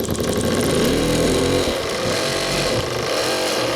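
A live-steam model boat engine speeds up under throttle on a San Julian steam plant test, giving a dense, steady mechanical chugging roar close by, loud and continuous, with no talking.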